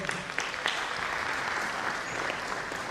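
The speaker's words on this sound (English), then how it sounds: "Let's put a round of applause as we welcome the Deputy Dean" A conference audience at an environmental sciences event breaks into sustained, even applause, a dense wash of many hands clapping from the room, moderately loud with no speech over it.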